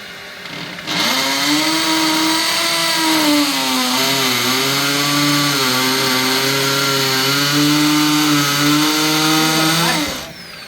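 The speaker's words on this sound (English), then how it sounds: "I drilled holes in the wall for the charge controller" A power drill bores holes into a house wall to mount a solar charge controller, with a loud, steady motor whine whose pitch wavers under load for about nine seconds before it winds down and stops.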